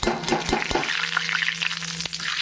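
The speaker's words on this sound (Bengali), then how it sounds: "তেলটা আমার হয়ে গেছে এবারে আমি এখানে ফোড়নটা দিয়ে দিলাম" Whole spices for a phoron tempering hit hot oil in a pan for a Bengali plantain curry, crackling and popping in a busy sizzle with a few sharp clicks. The sound is close and continuous for a couple of seconds.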